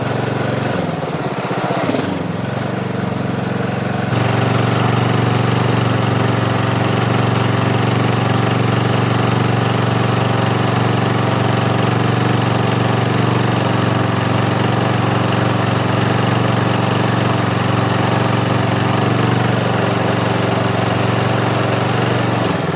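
A brand new Honda HRX 537 lawn mower engine runs close by, a loud steady drone that settles into an even, constant hum after a brief lower-pitched start, with no talking.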